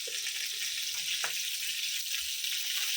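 Bhangra fish frying in a pan, a steady close sizzle with faint crackle running evenly throughout, no voices.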